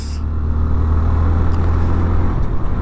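A Honda MSX-125 motorcycle's engine drones steadily at close range during a test ride, a continuous low rumble with wind noise and no talk.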